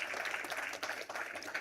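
Audience applause at a women's awards conference, a brief patter of many hands clapping, moderately faint and steady.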